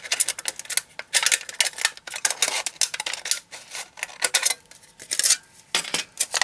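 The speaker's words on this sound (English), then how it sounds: "the first thing I did was cut a square out of the can" Scissors snip through a thin aluminum drink can to cut out a square, giving rapid, bright metallic clicks and crinkles in an irregular run, close and clear with no talking.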